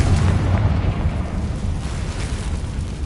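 The Confringo fire spell explodes in the video game Hogwarts Legacy as a loud, rumbling blast that carries on as a sustained roar for the whole moment.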